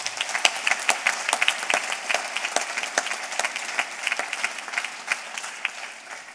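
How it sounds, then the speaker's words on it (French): A congress audience of over a thousand people applauds at an opening ceremony in Lausanne, dense steady clapping that rises and falls, fairly distant and filling the hall with no voices over it. "une magnifique présidence de Stanley Gaston que je vous propose d'applaudir."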